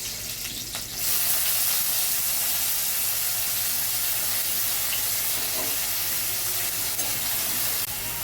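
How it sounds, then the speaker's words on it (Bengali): Ginger, green chilli and onion hit hot oil for a vegetable dalia, breaking into a loud, steady, close sizzle after a brief quieter second, with no talking. "তেলে এবার প্রথমে দিচ্ছি আদা কুচি, কাঁচা লঙ্কা কুচি, এবারে দেব পেঁয়াজ"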